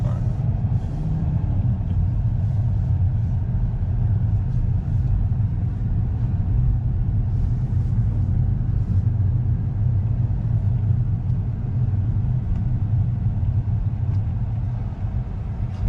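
A 2024 car, either a VW GTI 380 or a GR Corolla Circuit, sets off and drives with a steady low engine rumble and road noise that holds evenly throughout.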